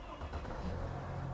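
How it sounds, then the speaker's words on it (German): A Mercedes car engine turning over and settling into a low, steady idle, fairly quiet and with no talking over it. "Wir machen jetzt mal einmal kurz den Motor an"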